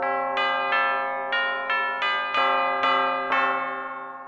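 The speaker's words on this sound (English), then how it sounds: "tubular bells," Tubular bells voiced by an iOS sound font sampler ring out in roughly eight resonant, metallic strikes that overlap and sustain into a long shimmering decay, loud and without talk.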